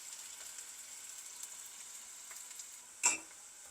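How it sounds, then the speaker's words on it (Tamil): Onions frying in oil for chicken biryani give a steady, soft, close sizzle throughout, with one brief louder crackle or clatter near the end; no one talks. "வெங்காயம் பொரிஞ்சு கொண்டு வருது."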